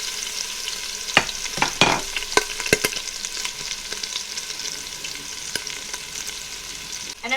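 Pork chops sear in a hot Instant Pot with a steady, close sizzle. Sharp scraping and clattering bursts rise above it now and then, and nobody speaks.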